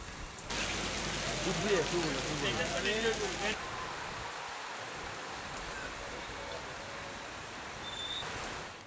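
Unseasonal heavy rain with stormy wind in Vasai-Virar gives a continuous rushing hiss, louder at first, then settling into a softer steady downpour.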